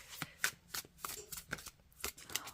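Tarot cards are shuffled by hand by someone wearing gloves, giving a quick run of crisp, close riffling flicks in an uneven rhythm with nothing else behind them.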